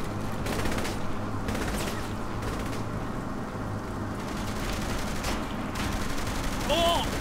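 Sustained automatic gunfire rattles through a firefight in the video game Saints Row: The Third, dense and continuous with game effects layered over it.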